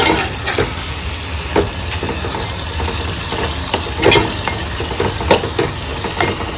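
Prawn (kolambi) curry frying and being stirred in a pan, a steady sizzle broken by scraping spoon strokes around 1.5, 4 and 5.3 seconds; close and fairly loud, with no talking.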